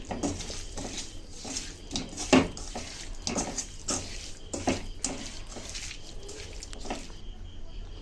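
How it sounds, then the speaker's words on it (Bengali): Fish being mixed by hand with potatoes and spices in a dish for steamed fish, wet squelching and light clinks of the dish repeating irregularly, close up with no talk. "তাই মাছ দিয়েও ভালো করে মেখে নিচ্ছি।"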